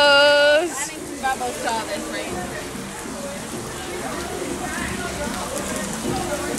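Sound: heavy rain

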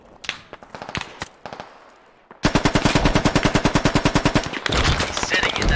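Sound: machine gun suppressing fire in a video game

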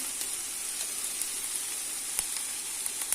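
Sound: peppers and eggplant frying in a pan

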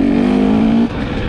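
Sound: KTM 300 EXC 2022 motorcycle accelerating

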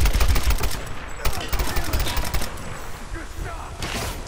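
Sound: machine gun firing in video game Tomb Raider (2013)

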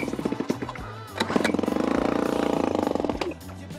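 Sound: old outboard motor running and revving

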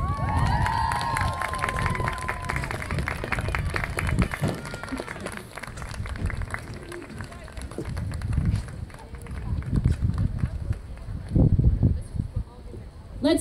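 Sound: crowd applauding and cheering for seniors

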